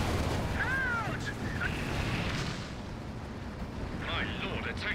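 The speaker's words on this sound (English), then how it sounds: "Be time to call some close range artillery." Close-range artillery fire in the Company of Heroes 2 strategy game rolls on as a steady, loud low rumble of booms, with a voice speaking briefly over it.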